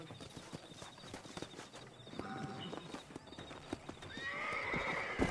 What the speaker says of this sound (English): I'm trying to hitch my horse.